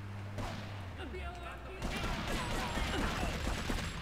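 Gunfight gunfire in Grand Theft Auto 3, a dense stretch of overlapping shots and bursts at a steady loud level, growing busier partway through, with game noise and voices mixed in.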